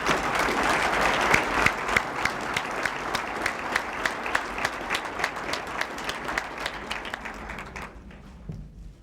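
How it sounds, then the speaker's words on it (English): Audience applause at a press conference, a dense round of clapping from a seated crowd that gradually thins to individual claps and fades out near the end. "Another round of applause as he comes up"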